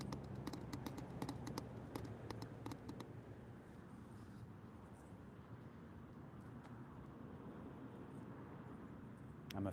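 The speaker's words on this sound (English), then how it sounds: "I'm holding a microphone in my hand and clicking it" A handheld microphone is clicked repeatedly, with a rapid burst of sharp clicks early on that fades into a low steady background.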